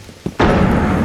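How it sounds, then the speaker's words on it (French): A flash grenade goes off in Rainbow Six Siege: a short pop, then a loud, sustained explosive burst that fills the rest of the moment, with no talk over it. "Grenade flash."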